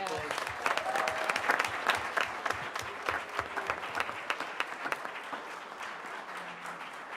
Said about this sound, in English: So I just want to give these guys a big round of applause.